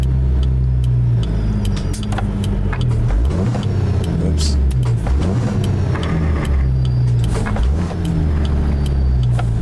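A Freightliner truck engine in American Truck Simulator drones loud and close, its pitch dropping and climbing through several downshifts over a steady low rumble.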